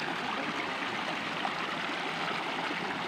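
A river flows steadily in rural hill country, its broad, even rushing noise filling the space close by with no breaks or voices.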